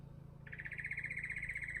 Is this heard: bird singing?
yes